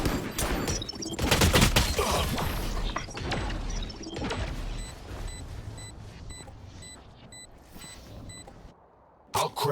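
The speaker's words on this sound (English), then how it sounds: "Grenade." A grenade explodes in a first-person shooter video game: a loud crashing blast with scattered debris, then a quieter stretch with repeated short electronic beeps, and a brief sharp burst at the end.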